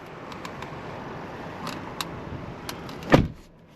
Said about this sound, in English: Door sounds nice when closing.